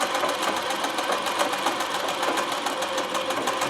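A Consew CN2053R-1A sewing machine runs fast and steadily during free motion embroidery, giving a loud, close, continuous needle chatter with an even mechanical rhythm and no talk.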